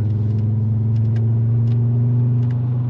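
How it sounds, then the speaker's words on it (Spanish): A secondhand Volkswagen Golf IV with a slightly damaged exhaust rumbles while driving, a loud, steady low engine drone heard from inside the car with a few faint clicks and rattles over it. "suena un poquito a tubo de escape"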